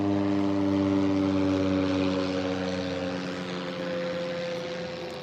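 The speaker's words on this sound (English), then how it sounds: "There's a plane coming." A propeller airplane flies overhead outdoors, its loud, steady droning hum holding for several seconds before easing slightly as it moves away.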